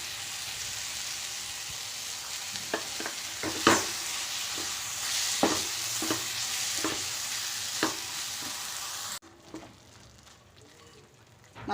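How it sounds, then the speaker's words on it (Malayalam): Palak dal with salt and garam masala stirred in a pan, with a steady frying sizzle and intermittent clicks of the spoon against the pan. The sizzle drops away sharply near the end. "നല്ലതുപോലെ ഇളക്കി കൊടുത്തിട്ട്"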